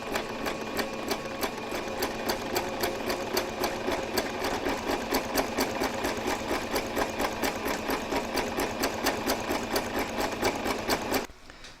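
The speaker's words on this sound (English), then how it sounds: "you're now going to stitch them following the edge of your fabric" A sewing machine runs steadily for about eleven seconds, stitching along the edge of fabric for a safari-print table runner, with a fast even needle rhythm before stopping abruptly.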